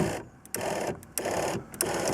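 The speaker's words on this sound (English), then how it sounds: "put the electric window down a little bit" Electric window motor on a Lotus Excel door lowering the glass in short repeated bursts, a loud, close whirring hum that starts and stops about three times in quick succession.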